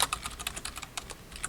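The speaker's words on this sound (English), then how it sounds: "we're going to type in yes" Quick, crisp keystrokes on a computer keyboard while setting up a Raspberry Pi for a Turtlebot 4 robot. The clicks fall in an uneven burst, close and clear, with nobody talking.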